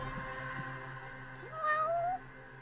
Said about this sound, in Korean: 고양이 소리 난다